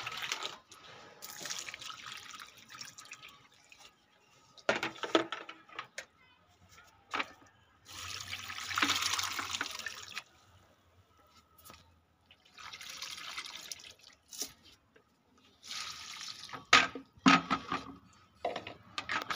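Water tipped from a bucket along a line on the ground, heard as several separate splashing pours in short bursts, each gushing briefly and then stopping, with quiet gaps between them.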